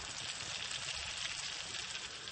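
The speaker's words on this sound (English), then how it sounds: "the juices that's released into the pan that you can hear sizzling away" Meat juices sizzle softly and steadily in a hot pan, a faint continuous crackling hiss with no talking.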